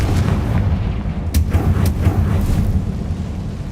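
Explosive Confringo spell blasts in the Hogwarts Legacy video game, a dense rumbling barrage of booming bursts with a few sharp cracks over a steady low roar, loud and continuous.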